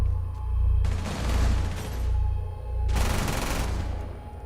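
Gunfire in a competitive video game match, shots fired through a wall: rapid bursts of automatic fire in two or three clusters over a low, pulsing rumble, close and loud.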